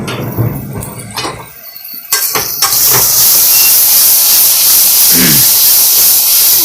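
A steel pressure cooker cooking a potato and onion curry lets out a loud, continuous rush of steam that starts abruptly after a couple of softer clatters and holds steady to the end.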